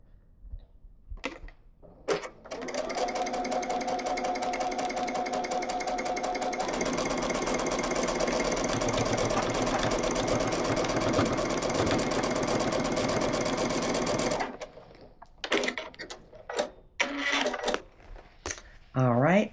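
A sewing machine runs steadily for about twelve seconds, stitching quilt pieces for a pinwheel sampler quilt, with a slight change in pitch midway. Short clicks and handling noises come before and after the run.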